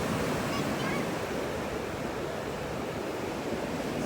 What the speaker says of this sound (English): So, they are enjoying the big waves. So, this is the Atlantic Ocean.